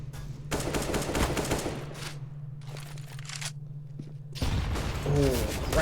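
Gunfire in Counter-Strike: Global Offensive comes as several rapid automatic bursts separated by short gaps, heard under continuous match commentary.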